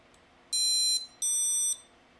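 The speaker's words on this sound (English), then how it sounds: "it's interesting that it's giving me some beepity beeps" An FPV drone's ESC beeps during a rebuild: two loud, high electronic tones, each about half a second long, separated by a short gap, in an otherwise quiet room.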